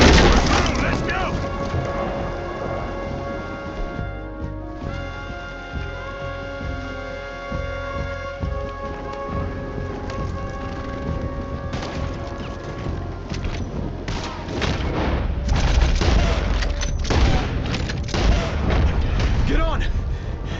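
Cannon fire during a fort rescue mission in Red Dead Redemption 2, a string of deep booms and sharp cracks over a rumbling battle scene that grows more intense toward the end.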